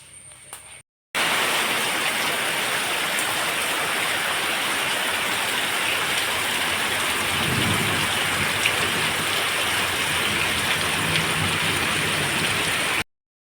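Steady, heavy rain pours down continuously, a dense hiss of water on surfaces that stays loud and even until it cuts off abruptly.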